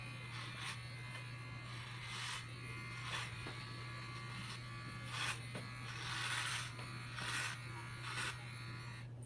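Bimirth kids hair clippers buzz steadily through a home haircut done by a mom, a constant electric hum with brighter bursts each time the blades pass through the child's hair, close and clear with no talk.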